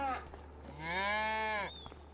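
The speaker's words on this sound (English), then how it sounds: "we'll make sure that these cows now have food and water" A cow moos on a farm in the video game Farming Simulator 25: a short low call, then one long, drawn-out moo, heard close against a faint steady hum.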